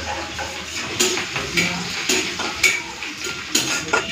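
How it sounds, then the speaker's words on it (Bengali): Crushed garlic and dried red chilli frying in oil in a pan, with a soft steady sizzle and sharp clinks of a utensil stirring against the pan at irregular intervals, close by. "রসুন আর শুকনো লঙ্কাটা ভাজা ভাজা করে নিয়েছি"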